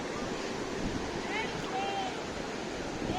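Sea waves at Palanga beach on the Baltic coast: a steady, broad surf wash mixed with wind noise on the microphone, with faint gull-like cries and a voice present in the background.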